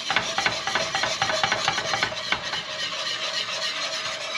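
A gumbo roux being whisked in a cast iron pot: quick, rhythmic scraping strokes with a soft sizzle, close and fairly quiet, the strokes easing off toward the end.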